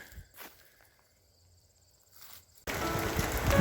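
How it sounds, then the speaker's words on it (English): Rain in the north country at the start of fall begins abruptly partway through as a loud, steady hiss, after quiet outdoor ambience with faint rustles. "the rain is here"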